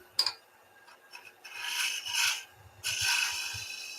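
Spindle gouge cutting a small bead on the end of a wooden kitchen scoop spinning on a lathe, giving bursts of close, raspy scraping separated by short pauses, with faint low thumps beneath.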